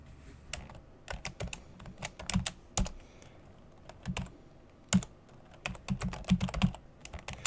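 Keys clatter on a Commodore 64 keyboard in quick, irregular bursts of close, crisp clicks with short pauses, faint and alone with no voices.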